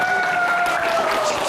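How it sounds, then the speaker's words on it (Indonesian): A studio audience at a fitness talk show gives a short burst of clapping, moderately loud and dense, with a faint tonal sound running under it. "Gimana, tepuk tangan buat dia"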